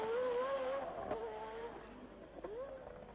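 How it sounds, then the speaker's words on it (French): A 1984 Ferrari Formula 1 car at the Casino corner of the Monaco street circuit, its high engine note rising and falling as it passes, heard faintly and thinly from a distance in an old broadcast recording. "René Arnoux au virage du Casino"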